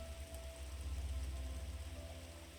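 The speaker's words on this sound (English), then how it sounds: "with just the sound of the rain" Steady rain falling outdoors in a still, quiet setting, a soft continuous wash of drops with a low rumbling undertone, even and unbroken throughout, with no voices.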